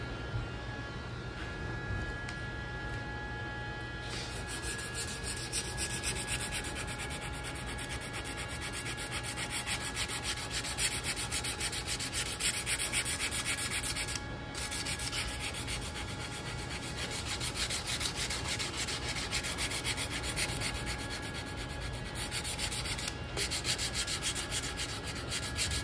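Sandpaper rubbed over a wooden flintlock rifle stock in long, even strokes, a soft continuous scratchy hiss that runs steadily, faint and close with no talking.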